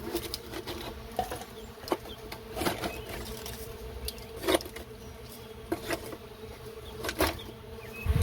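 Mason bees buzz nearby at nesting tubes, their drones rising and fading as they fly past, with a few soft taps in between.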